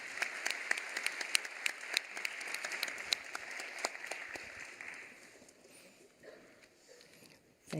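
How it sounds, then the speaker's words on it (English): Applause from a conference audience thanking a panel on global health and climate shocks, steady dense clapping that thins and fades out over the last few seconds. "Let's have a big round of applause for them"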